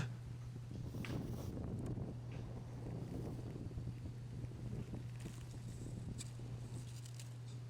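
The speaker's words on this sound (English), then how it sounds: "the wind was so bad that I didn't want it to blow people's speakers out" Strong wind gusting outdoors near a dead tree, buffeting the microphone with a steady low rumble and broadband roar, with a constant low hum underneath throughout.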